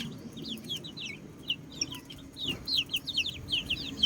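One-month-old native chicken chicks on the ground peep and cheep in quick high chirps, some scattered, then a busier cluster of calls, fairly near over a quiet outdoor background.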